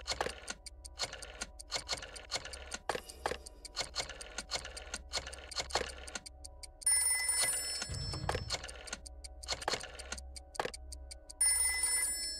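A rotary telephone rings in the Trivia Murder Party game, with rapid mechanical bell clatter and jangling running continuously, joined by brighter electronic tones partway through.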